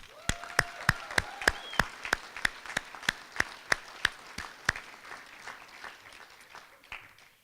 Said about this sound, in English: A little applause for all of those people.